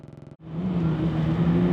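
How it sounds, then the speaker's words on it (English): Miss Seattle Too hydroplane racing boat starting a qualification run, its engine first throbbing in a rapid pulsing idle, then cutting briefly before surging into a loud sustained roar. "This is Miss Seattle 2 with Dallas Sarts driving. The start of her qualification run."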